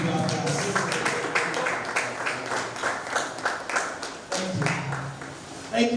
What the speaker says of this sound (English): They shouldn't be too busy to clap.